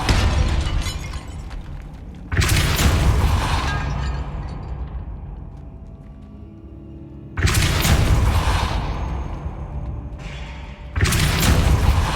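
Depulso force spell cast in Hogwarts Legacy, three loud sudden bursts of blasting impact and crashing debris, each decaying into rumbling rattles before the next, no voices.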